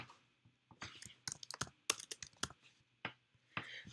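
Typing on a computer keyboard while entering a page title: quick, close clicks of keys in short uneven bursts with brief pauses, fairly quiet and with no speech.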